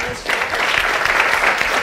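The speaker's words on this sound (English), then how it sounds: "please give another round of applause to Daniel" A seated audience at a speaker series applauds for Daniel, a dense, steady wash of many hands clapping at close range throughout.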